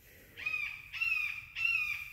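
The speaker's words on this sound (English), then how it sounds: "the bird you hear in the background" A bird gives three harsh, crow-like caws at a steady interval, each one drawn out and clear. It sits moderately distant in the background of an otherwise quiet outdoor scene, with no talking.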